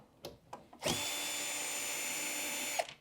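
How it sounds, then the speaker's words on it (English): A powered screwdriver whirs steadily for about two seconds, removing screws from an LG washing machine being repaired for an AE error. A few clicks and handling taps come first, and it is close and clear with no talking. "let's go right ahead and remove those with your Phillips head screwdriver"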